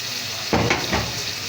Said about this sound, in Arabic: واصفي فيها الطماطم كده